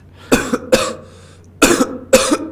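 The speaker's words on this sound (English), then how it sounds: "I hear coughing" Coughing inside a video game: two pairs of close, harsh coughs, each burst doubled and separated by a short pause.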